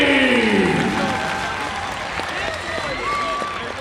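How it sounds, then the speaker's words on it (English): Loud crowd applause and cheering in a gym for a winning roller derby team after a semi-final bout, dense clapping that fades slightly while an announcer's amplified voice rings over it. "give a big round of applause to the Reservoir Dolls!"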